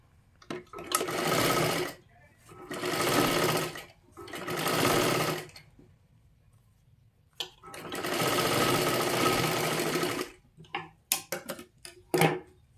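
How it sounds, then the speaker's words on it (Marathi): A sewing machine runs a double line of stitching on a katori blouse seam in four steady bursts separated by pauses, close and loud, ending in a few short clicking stitches with no talking. "आता डबल शिलाई मारून घ्यायची आहे"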